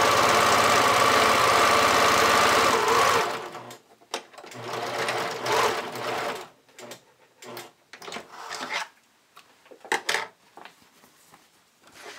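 A sewing machine topstitches along a fold line on a bodysuit, first a loud, steady motor whir for about three seconds, then short stop-start bursts of stitching separated by near silence.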